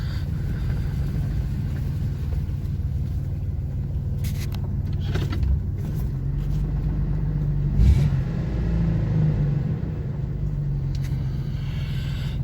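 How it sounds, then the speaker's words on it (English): A Chevy S10 Blazer's exhaust system rattles in short, scattered bursts over a steady, loud engine rumble, heard from inside the vehicle as it drives. "There's a rattle, but I think that's the exhaust system."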